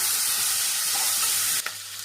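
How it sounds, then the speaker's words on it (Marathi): Bombil curry with potato and radish sizzles loudly in a pan as it is stirred, a continuous hiss broken by a spoon knock near the end. "आता मिक्स करून घेऊ"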